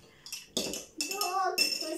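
A metal spoon clinks repeatedly against cups while mixing Easter egg dye, giving several close bright chinks in bursts, with people speaking softly nearby.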